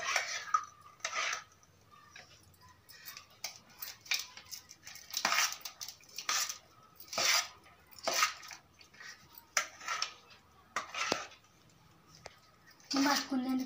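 A utensil stirring food in a pot, giving scattered metallic clinks and scrapes in irregular rhythm while people talk nearby.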